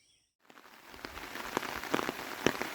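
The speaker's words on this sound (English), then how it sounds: "it finally started raining" Rain falling on a OneTigris Backwoods Bungalow 2.0 tent, a faint scattered patter of drops on the fabric that begins after a moment of silence and grows slightly denser.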